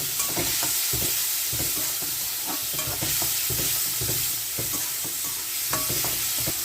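Cherry tomatoes and small chopped pieces are tossed and fried in a hot pan, giving a steady close sizzle with repeated scraping and stirring clicks throughout.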